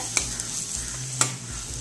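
Drumstick leaves cooking uncovered in an open pan, giving a low steady sizzle with a couple of sharp clicks of a utensil against the pan, close by and fairly quiet.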